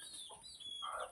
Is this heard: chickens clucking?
yes